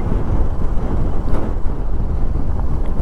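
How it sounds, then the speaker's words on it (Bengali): Strong, dusty wind buffets the microphone during a motorbike ride through the Himalayas between Tabo and Losar in Spiti, a constant loud roar with deep rumbling gusts and no clear voices. "প্রচন্ড জোরে হাওয়া চলছে, ধুলো উড়ে আসছে বারবার"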